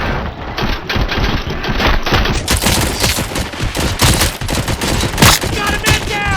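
Heavy gunfire erupts in the video game RoboCop: Rogue City, loud sustained bursts of rapid shots and overlapping volleys crackling close by with no pauses, echoing through a firefight.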